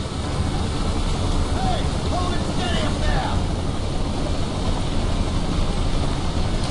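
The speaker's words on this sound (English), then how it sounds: "And we're on a helicopter!" A helicopter flies in Splinter Cell: Double Agent, its engine and rotors producing a loud, constant droning rumble throughout, with faint murmuring voices briefly surfacing in the middle.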